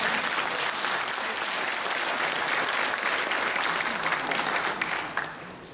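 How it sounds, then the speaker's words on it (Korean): Dense, steady applause from an audience at a theological seminary graduation ceremony, loud and sustained throughout, thinning slightly near the end. "박수 한번 주세요"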